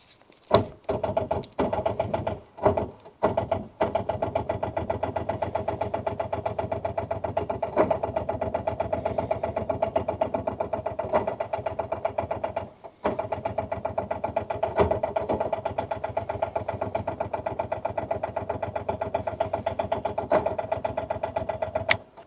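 An old Rover 800 car left abandoned for 15 years cranks on its starter. A few short attempts give way to a long, steady, rhythmic churning that never catches, with a brief break partway through.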